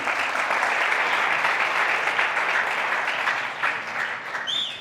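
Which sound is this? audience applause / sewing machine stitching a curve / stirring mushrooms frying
audience applause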